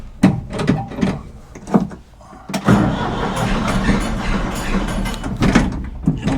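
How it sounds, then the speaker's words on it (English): A 1975 Ford 550 backhoe's engine cranking a few times in short bursts before catching and settling into a rough, steady idle up close. "Let's go ahead and fire it up."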